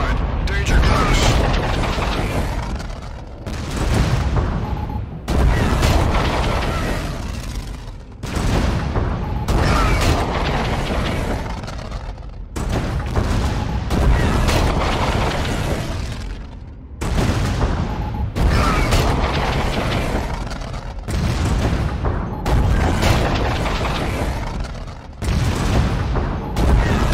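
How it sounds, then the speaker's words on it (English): Retaliation missile scorestreak strike in Call of Duty Infinite Warfare, a long run of dense, loud rumbling blasts and booms arriving in repeated waves with short gaps, heavy and continuous. "Full missile system prep for use."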